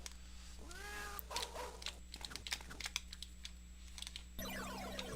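Cats meow in an arcade video game as electronic mewing sweeps over a steady machine hum, with rapid clicky button or keyboard sounds and a shift to busier game tones near the end.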